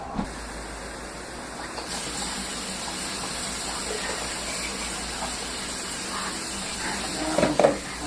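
Steady rushing of 1.25 gallons of water pouring into a beer brewing kettle, a continuous broadband gush with a few brief clanks near the end.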